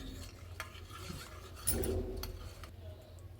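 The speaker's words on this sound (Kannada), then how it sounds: "ನೋಡಿ ಈ ಥರ ಗಂಟಿಲ್ದಂಗೆ ಕಲಿಸ್ಕೊಂಡ್ರೆ ಆಮೇಲೆ ಬೆಲ್ಲ ಕರಗಿದ್ರೆ" Jaggery is stirred into juice to dissolve it, giving soft scraping and swishing strokes of a spoon against a vessel, a few sharper clinks, close and quiet with no talk.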